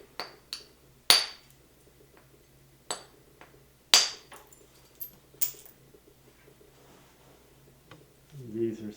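Flint knapping, with a hammer striking stone to flake it: sharp isolated clicks and cracks at irregular intervals, several louder strikes among lighter taps, close-up and otherwise quiet.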